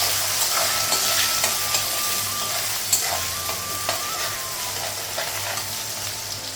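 Onions sizzle and crackle steadily in hot oil with whole spices while frying as the base for a duck curry. A spoon stirs them now and then, close up, with no talk.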